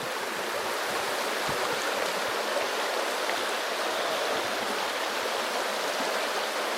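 A river flows steadily with a dense, even rushing of water that stays loud and close for the whole stretch. No voices are heard.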